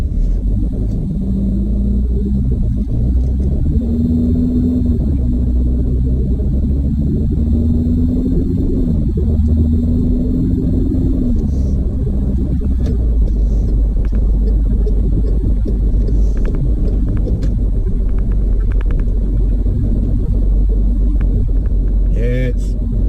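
A car cruises up a highway, heard from inside the cabin as a loud, constant low engine and road rumble, with a brief whine rising and falling partway through.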